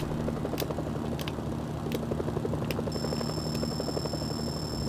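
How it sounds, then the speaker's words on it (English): Military helicopters approaching in the video game Mercenaries: Playground of Destruction, a steady rotor chop and engine drone with regular thumps. A high electronic tone joins partway through. "Incoming helicopters. They'll tear through the tanks."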